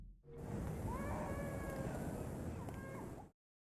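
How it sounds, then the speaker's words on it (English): Baby crying in the video game Bully, a continuous wailing cry heard through a building, muffled and distant over a steady noisy background hiss. "In the classic game Bully, there is a specific building where you can hear a baby crying."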